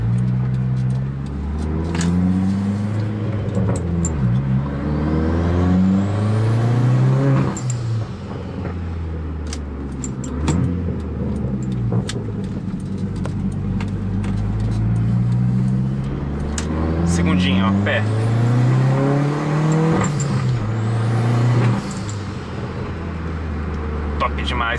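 A turbocharged Chevrolet Astra driven on the road, its engine rising and falling through repeated revs and gear changes with exhaust roar and turbo whistle, loud and close throughout, with someone talking over it.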